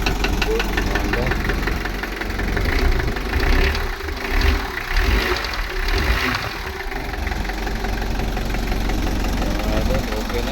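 A Mitsubishi L300 engine idles after a fresh timing belt replacement, a steady, close rumble with a rhythmic knocking throb running continuously, while someone talks over it.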